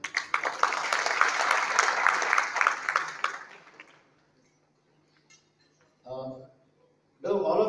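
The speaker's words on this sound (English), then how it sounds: "a warm welcome to all of you with a round of applause to all of you" An audience at a product-unveiling event in a hotel breaks into a round of clapping that rings out for a few seconds, then fades to quiet, followed by brief bursts of a voice.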